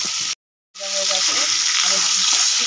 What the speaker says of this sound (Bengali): তেলটা গরম হয়ে গেছে আমি হালকা করে ভেজে নেব